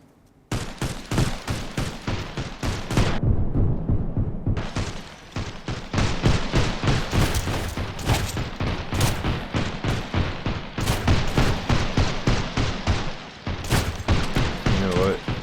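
Gunfire in the survival game Sunkenland comes as rapid bursts of close, loud shots, mostly sustained automatic strings with a short pause before the shooting resumes.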